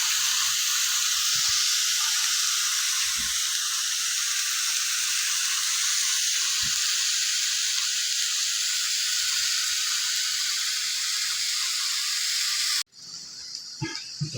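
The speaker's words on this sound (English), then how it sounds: "this is what we're going to then just fry in your frying pan" Steak sizzling in a frying pan, a steady loud hiss of hot fat that runs almost unbroken for about thirteen seconds, then cuts off abruptly, leaving quieter kitchen clatter.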